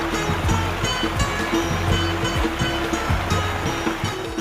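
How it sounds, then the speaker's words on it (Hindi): Rushing water of the Umbrella Waterfall near Havelian, Abbottabad, Pakistan roars steadily and broadly, a dense continuous wash of splashing noise close by, with faint background voices. "बस बहते झरने और आबशार का शोर है"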